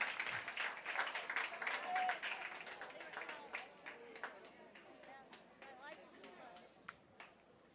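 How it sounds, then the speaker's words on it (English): Spectators at a South Central vs North Clay 1A regional championship baseball game clap in scattered bursts that fade into sparse, irregular claps, with murmured crowd chatter underneath. "You can tell who's for who by everybody's clapping on every strike."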